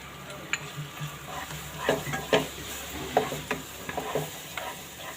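Turmeric and coriander-cumin powder stirred in a hot pan for palak paneer, a spoon scraping in several short strokes over a low, steady sizzle, close and fairly quiet.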